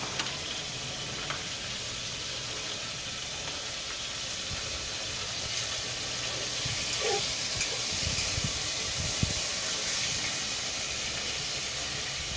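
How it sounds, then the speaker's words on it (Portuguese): A steady, loud hiss of escaping steam from a pressure cooker with meat inside fills the whole stretch, constant and unbroken, with faint clinks and low rumbles underneath. "A carne já tá na panela de pressão."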